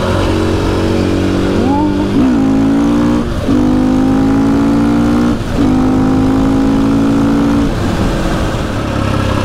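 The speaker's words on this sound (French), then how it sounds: "le bruit avec l'Acra est vraiment bien" A KTM EXC 450 supermoto with an Akrapovic exhaust revs loudly and close by, a single-cylinder engine climbing through several held, rising pitches between short throttle drops, with no talk.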